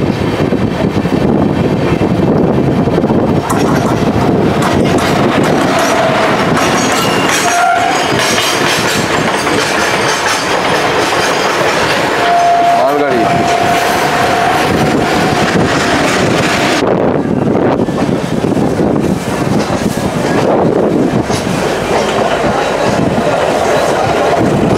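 A passenger train running from Howrah toward Bolpur, its loud continuous rumble and rattle mixed with heavy wind buffeting the microphone, with faint tonal whines drifting in and out.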